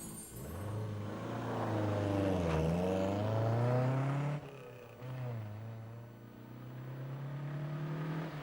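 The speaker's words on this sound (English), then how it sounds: "This car is a Lotus Elan S2, built in 1965." A 1965 Lotus Elan S2 sports car accelerates through the gears, its engine note rising and falling through a gear change, then pulling away again at moderate distance.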